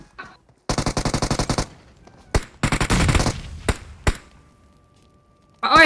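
Video game gunfire: rapid automatic bursts ring out loud and close, split by short silences, single sharp shots and a final burst near the end.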